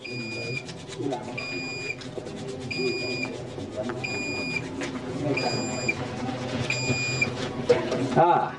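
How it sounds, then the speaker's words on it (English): An automatic handwashing station sounds a series of evenly spaced electronic beeps, around six bright tones, prompting the user, while water runs and voices talk underneath throughout. "It also have the alarm system to prompt you."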